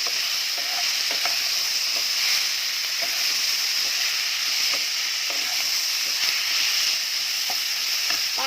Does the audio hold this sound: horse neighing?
no